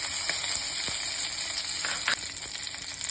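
Mustard seeds, curry leaves and dried red chillies sizzle steadily in a small amount of hot oil for a Tamil tomato kuzhambu tempering, a close, continuous crackling hiss with a few sharper pops and no talking.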